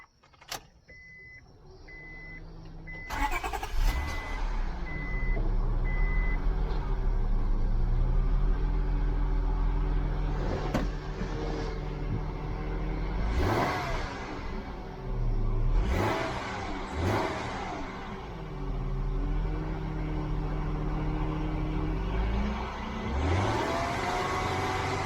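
A car engine cranks and fires up right after a DIY timing belt replacement, then settles into a steady, close idle with a few brief blips of revving.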